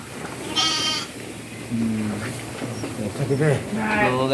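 Sheep bleat repeatedly on a sheep farm, several calls near and far scattered across the scene, with people talking underneath.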